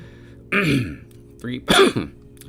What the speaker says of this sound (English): Trying not to cough, guys.